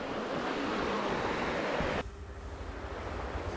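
Water in a stream at the Kaeng Nok Khao tent campsite gives off a steady, close rushing wash that continues evenly throughout, its tone shifting slightly partway through, with no voices.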